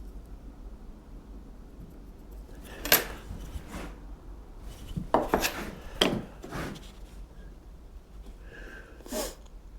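A marking knife scores a line across wood for a dovetail halving joint, a handful of short, close scraping strokes in a quiet room with no talking.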